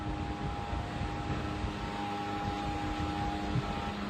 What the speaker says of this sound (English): That is the sound of a water extricator basically trying to vacuum out